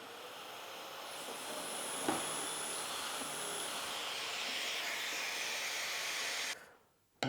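A vacuum attached to a Festool Domino DF500 drill template runs with a steady loud whooshing hiss for several seconds, a brief clack midway, then winds down and cuts off.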